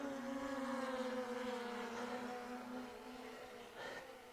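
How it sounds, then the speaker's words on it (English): DJI Air 2S drone flying over the Snake River Canyon gives a steady high whining buzz from its motors, fairly faint and continuous, pitch sliding slightly lower over a few seconds, no talk. "the drone sounds really good too"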